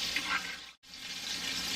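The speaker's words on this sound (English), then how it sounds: "This is why I hate frying. It ruins the stove." Deer cubed steak fries in a pan on a kitchen stove, giving a soft, steady sizzle with a brief dip to near silence midway, faint and close.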